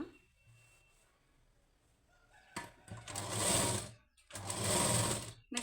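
Sewing machine stitching around the lining of a blouse, quiet at first, then two loud, steady runs of rapid mechanical whirring separated by a brief pause, close up and without speech.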